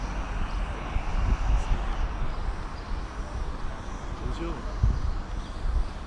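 A camera drone flying over a hotel rooftop in the morning, its steady buzzing whir continuous and fairly close, running beneath outdoor background noise.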